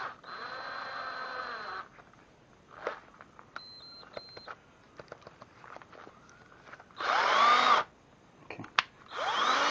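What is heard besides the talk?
cordless drill running, battery getting low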